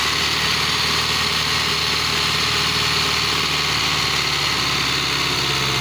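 A tractor engine labours steadily while uprooting dried-out plants in a garden, a continuous loud mid-range drone with vibration and no pauses throughout.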